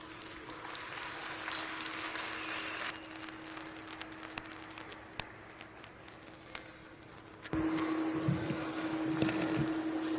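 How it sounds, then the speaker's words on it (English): Audience applause at a county fair pig show, steady scattered clapping heard at a moderate distance over a constant low hum, growing louder and fuller near the end. "So I'd ask for a round of applause as I dismiss them and welcome in the next heat."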